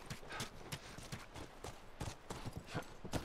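Horse hooves clip-clop at a steady walking rhythm in The Last of Us, a rapid series of moderately close, soft thuds with no one talking.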